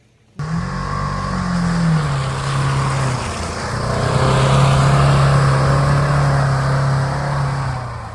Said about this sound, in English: And then we take the truck back to the surf shack.